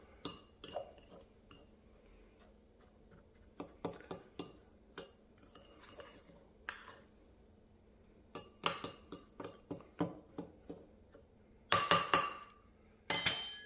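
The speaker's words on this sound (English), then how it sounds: "go ahead and use a fork and go ahead and incorporate everything" A metal fork stirs a dry spice rub for pork ribs in a bowl, giving sparse, sharp clinks and taps that come in irregular clusters. The taps are close and grow denser and louder toward the end.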